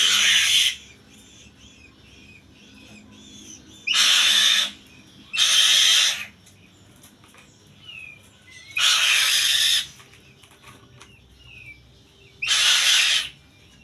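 Young falcon chicks give repeated loud, harsh bursts of calling, about five separate calls spaced a second or two apart, close by and with no talk over them.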